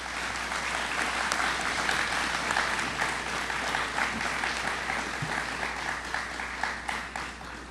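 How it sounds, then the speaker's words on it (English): An awards-night audience of families and friends applauds warmly, a dense wash of clapping that carries on steadily and then thins toward the end. "give a round of applause to your parents, your family, and your friends who are here tonight"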